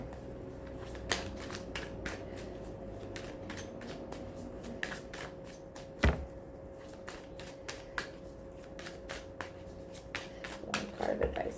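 Tarot cards being shuffled by hand to draw an advice card, a steady run of soft, quick riffling taps and flicks with one sharper snap, close and quiet, with no talking.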